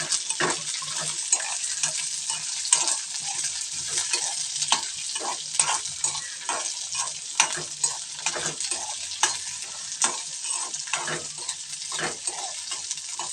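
Red onions fry and sizzle in hot oil for a red onion pickle, with a steady broadband hiss broken by repeated scraping stirs in the pan, close and fairly loud, no talking.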